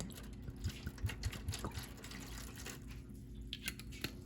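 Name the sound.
pouring white wine into a marinade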